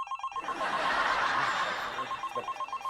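A telephone rings in a short burst of repeated electronic trills, loud and close, with faint chuckling underneath.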